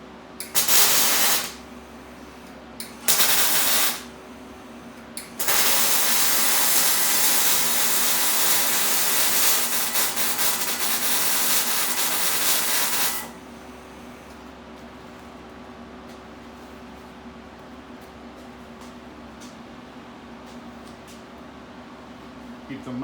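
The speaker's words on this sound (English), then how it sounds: "Now I'm going to give them a nice beefy weld" Metal parts for a powder coating oven are welded in three bursts of close, crackling, hissing noise: two short ones, then a long run of about eight seconds. Quiet background hum fills the gaps and the end.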